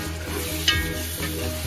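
Ginger garlic paste fries in a pan, giving a close, steady sizzle broken by a few rhythmic scrapes of stirring. No voices are heard.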